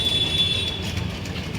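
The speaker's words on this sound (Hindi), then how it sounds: "मेट्रो" A short burst of metro train noise, a low rumble with a thin high whine from the wheels, loud and close.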